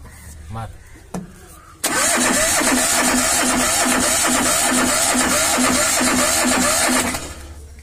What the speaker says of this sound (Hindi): सेल्फ का स्टार्ट मार के दिखाता हूँ